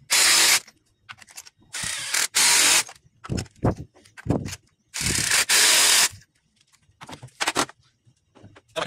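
Ratchet tightening spark plugs on a 2000 Toyota 4Runner: loud, close bursts of rapid clicking, repeated in separate strokes with short pauses between them.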